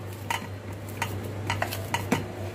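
Gathiya dough being mixed by hand in a bowl, with soft repeated squelching pats and light clinks coming every half second or so, close up and fairly quiet over a steady low hum.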